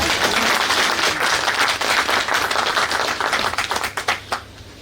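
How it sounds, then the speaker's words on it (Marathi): Warm audience applause at a Marathi poetry gathering held by the Vasudha Foundation in Pune: dense, sustained clapping from a crowd that thins into scattered individual claps before fading near the end. "टाळ्यांनी दाद कशी द्यायची हे तुम्हाला सांगायची गरज नाहीये"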